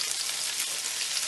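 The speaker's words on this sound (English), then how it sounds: "You should hear that sizzling sound as soon as it hits the pan" Salmon laid skin-side down in hot oil sizzles steadily in a pan, a close, dense and even crackling hiss with no talking.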